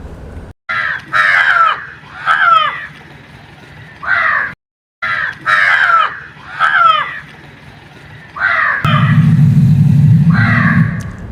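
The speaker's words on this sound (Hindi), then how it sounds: "कौवे की एकदम कर्कश आवाज होती" Harsh, loud crow caws repeat in short bursts of two or three, with brief silent gaps, and a low rushing hum joins near the end.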